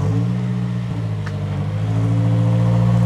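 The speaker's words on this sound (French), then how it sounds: "elle fait le bruit d'une Subaru" A four-cylinder turbocharged car engine with a Subaru-like burble runs steadily at a near, loud level, its low droning hum holding throughout with a slight change in pitch partway through.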